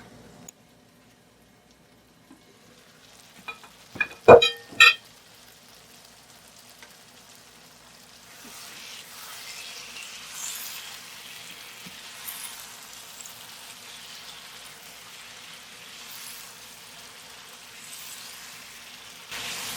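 Chicken karahi in a pan: a few sharp metallic clanks of a lid or utensil early on, then a soft, steady sizzle of frying that builds and continues to the end.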